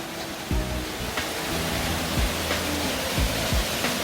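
Yukdam Waterfall in Seoraksan's Towanggol valley pours into a deep pool with a constant broadband roar, a steady close rush of falling water with a few faint bumps and no voices.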